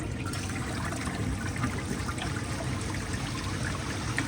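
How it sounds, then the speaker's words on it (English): A round Procemex toilet flushes, with a steady, fairly quiet rush and trickle of water running through the bowl, heard alone and without voices. "But here is a flush."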